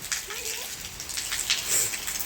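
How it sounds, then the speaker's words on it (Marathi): Unseasonal rain falls steadily, a continuous hiss of drops striking surfaces close by, with no voices heard. "अवकाळी पाऊस आहे"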